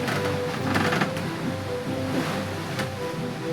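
Strong-wind waves slap and rush against the bow of a sailboat under sail off Greece, with about 23 knots of apparent wind, making a continuous close wash of water and spray with a few louder surges.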